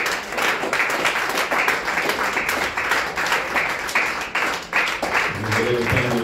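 A church congregation in a French-speaking worship service applauds in praise, with sustained, fairly loud, rhythmic clapping, and a voice speaking over it near the end.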